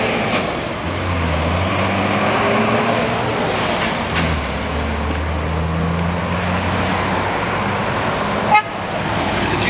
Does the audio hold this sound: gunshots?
no